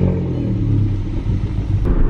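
An Audi A1 fitted with an induction kit drives along, its engine a steady low rumble with slight revving swells, mixed with wind and road noise inside the cabin.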